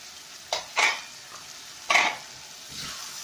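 Spice masala frying in a pan for a bottle gourd curry, a quiet sizzle underneath three or four distinct spatula scrapes against the pan, close and with no one speaking.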